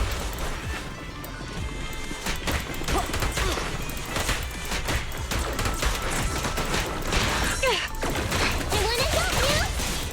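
A character in Zenless Zone Zero unloads a big gun, a dense barrage of heavy blasts and crashing impacts that runs continuously for about ten seconds amid busy game effects.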